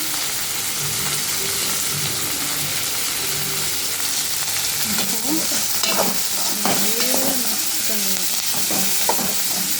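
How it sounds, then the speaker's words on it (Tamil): Green chillies frying with onion and tomato in a pan, with a steady sizzle and scraping stirs that grow busier in the second half, close and fairly loud. "இப்போ இந்த பச்சை மிளகா வந்து இதில் போடணும்"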